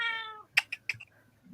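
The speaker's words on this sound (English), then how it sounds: "The cat doesn't approve." A house cat meowing indoors, a clear drawn-out meow followed by a few short soft chirps and thumps, close and alone.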